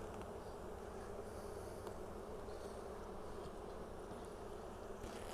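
Honey bees buzzing inside a weak, queenless Kentucky hive being opened for combining, a soft continuous droning hum, steady and fairly faint, with no voices.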